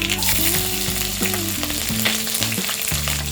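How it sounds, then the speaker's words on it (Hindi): Mustard seeds and three finely chopped green chilies crackle and sizzle steadily in hot oil for a Gujarati-style cabbage sabzi, a dense continuous fry under background music. "तेल गरम हो गया है। अब हम इसमें डालेंगे 1 टीस्पून राई, 3 ग्रीन चिलीज फाइनली चॉप"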